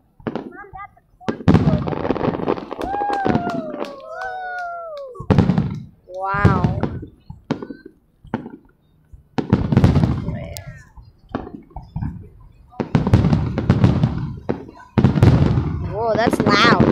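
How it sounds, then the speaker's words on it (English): Loud fireworks burst and crackle in repeated bangs with whistling shells rising between them, while excited voices shout and react throughout. "Whoa, that's a big explosion."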